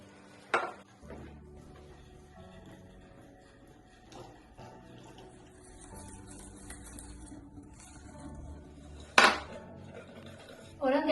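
A spoon stirring cake batter in a bowl while milk is poured in for a Polish cake, with soft scraping and a few sharp clinks of utensil against the bowl, heard under quiet talk.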